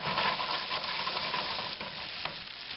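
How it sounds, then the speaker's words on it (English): Cornmeal-coated okra frying in a hot pan, a steady dense sizzle and crackle that stays loud and continuous throughout, close up with no voices. "let them fry for a few minutes"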